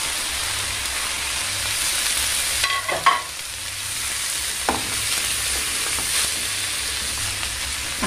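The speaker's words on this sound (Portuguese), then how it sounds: "Vou colocar tudo para refogar," Tomatoes, peppers and onion sizzle steadily in a hot pan as they are sautéed, with a few stirring scrapes and clinks of a utensil partway through; the frying hiss stays close and even throughout.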